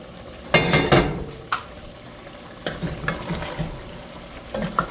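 A pot of spicy lentil and pork stew simmers with a soft sizzle while a spoon stirs and scrapes it, giving several close clanks and scrapes over the bubbling.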